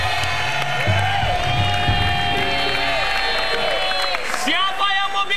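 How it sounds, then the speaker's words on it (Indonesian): Studio audience at a lively Indonesian TV variety show claps and cheers for Om Senang, with crowd noise, whoops and music filling the space under an ongoing voice. "Tepuk tangan dong buat Om Senang"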